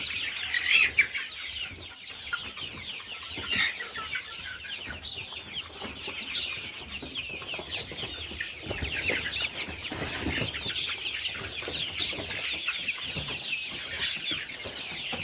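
Many free-range village chickens on a small poultry farm cluck and chatter together in a busy, continuous chorus, with occasional louder squawks standing out against the crowd; no talking.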